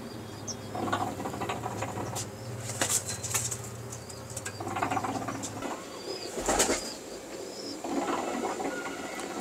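Male show pigeons flap their wings in several sharp bursts, close and fairly loud, over a low rumbling hum and faint bird sounds, with no talking.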